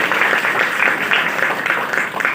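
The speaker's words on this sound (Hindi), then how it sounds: "जोरदार ताली से स्वागत किया जाए।" Audience applause fills the space, a dense, steady clapping at an RCM gathering on January 26, welcoming speaker Upendra Prasad Dangi; loud and continuous with no talk over it.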